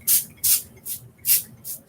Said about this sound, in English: Spray butter.